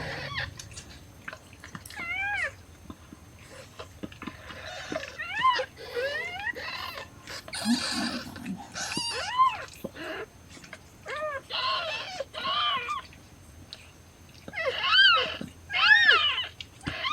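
Newborn kittens from rescue cat Buttercup's litter mew in thin, high, wavering cries, repeated in irregular bursts close by over a quiet room background.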